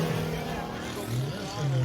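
The P-51 Mustang race plane Strega flying past during a Reno racer test flight, its engine a steady, loud, rough roar with shifting pitch, while a person talks over it.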